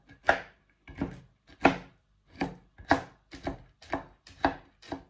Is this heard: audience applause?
no